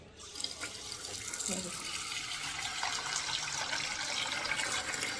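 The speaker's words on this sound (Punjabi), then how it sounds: "ਡੋਂਗਾ ਮੈਂ ਪਾਣੀ ਦਾ ਭਰ ਕੇ ਰੱਖ ਦਿੰਦੀ ਆ" Tap water pours steadily into a bowl in a home kitchen, a continuous rushing splash at low level throughout.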